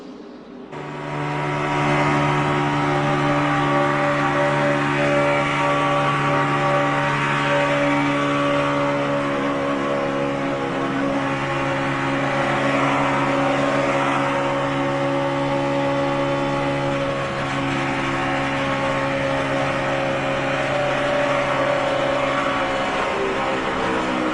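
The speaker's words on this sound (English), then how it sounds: "let's give a listen to David Reagan's engine as he goes down the backstretch" David Reagan's NASCAR race car engine at the 2011 Aaron's 499 roars steadily down the backstretch, a loud sustained drone with a strong hum that holds for more than twenty seconds, with no talk over it.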